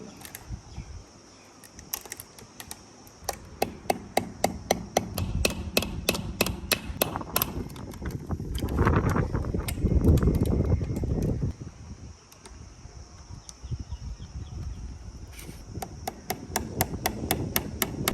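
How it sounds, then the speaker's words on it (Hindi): Hammer driving nails to secure a clamp on a CCTV camera cover during a home installation, sharp close blows in rapid rhythmic bursts, pausing midway for a louder broadband scraping and handling noise, then resuming. "उल्टे हाथ से पहले कील लगा रहा था, अब सीधे हाथ से।"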